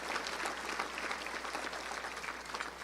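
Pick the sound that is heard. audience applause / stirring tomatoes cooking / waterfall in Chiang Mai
audience applause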